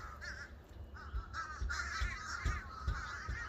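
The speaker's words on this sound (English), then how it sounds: "Let me show y'all these birds." Crows caw repeatedly from nearby trees, harsh calls overlapping in a steady outdoor chorus.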